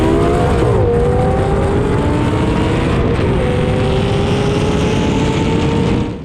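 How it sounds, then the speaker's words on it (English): A heavily modified supercharged 3-valve Mustang and a V10 Audi R8 race flat out, engines roaring loud and continuous with rising pitch through the gears, a shift break near the start and another midway. "it's not every day you see a 3-valve Mustang race an R8"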